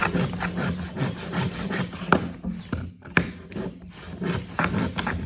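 Hand saw cutting through a wooden board along a homemade saw guide, a steady rhythm of rasping back-and-forth strokes with a brief pause midway, close and fairly loud.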